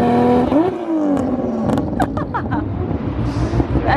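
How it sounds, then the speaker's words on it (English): A battered drift car's engine revs hard, rising and falling whines with sharp throttle blips and popping bursts, loud and close at a drift event. "That is a mean sounding car."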